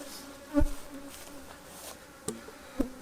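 Honeybees in a hive opened after being left closed for a week give off a faint, steady buzzing drone, broken by a few soft knocks or thumps.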